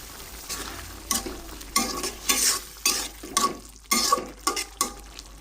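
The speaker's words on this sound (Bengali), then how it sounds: "এখন চিংড়ির মধ্যে আমি ধনেপাতা দিয়ে দিচ্ছি" Shrimp bhuna with coriander is stirred and fried in a pan, giving repeated scraping strokes of a spatula over a soft background sizzle, close and clear with no speech.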